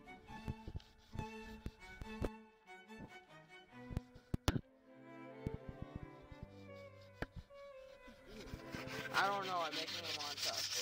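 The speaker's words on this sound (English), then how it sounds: "Now it's time to sand." A wooden walking stick is sanded by hand on a table, with uneven rubbing strokes and occasional sharp knocks and scrapes, while a voice speaks briefly over the work.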